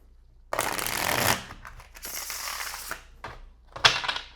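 A brand-new, slippery tarot card deck being shuffled by hand, two long riffling bursts and a shorter one, then a sharp snap of cards settling, close and moderately loud.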